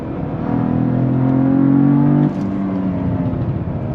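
A 2022 Cadillac CT4-V Blackwing with a 6-speed manual drones loudly at steady revs and then drops sharply in pitch as it downshifts, its exhaust rumbling on afterward up close.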